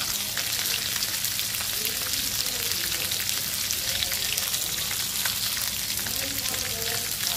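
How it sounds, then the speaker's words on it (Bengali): Rohu fish pieces fry in hot oil, a steady crackling sizzle with sputtering pops, moderately close and continuous, with no talk over it. "কড়া করে ভাজবো মাছগুলো"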